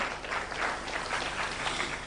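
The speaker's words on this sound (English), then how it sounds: "Why don't you clap for Homa Bay?" A crowd at an African awards ceremony breaks into applause, a brief, dense, even burst of clapping heard fairly close with no talking over it.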